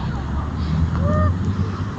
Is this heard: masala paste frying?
no